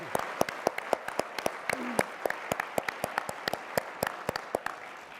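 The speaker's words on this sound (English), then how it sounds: "You're applauding before she even gets out here." Gala audience applauds at moderate distance, individual sharp claps scattered and distinct against a soft steady background, sustained for several seconds without a break.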